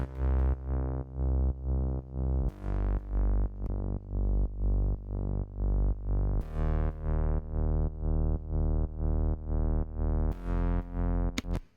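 Layered kick drum and bass in a mix with no Fairchild compressor, pulsing in even, repeated punchy hits under a thick distorted low tone, loud and continuous with no speech.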